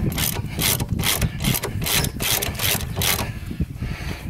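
Repeated ratcheting clicks in a steady rhythm as nuts are tightened on a Toledo wheel bearing assembly, loud and close, with a brief pause near the end and no talking.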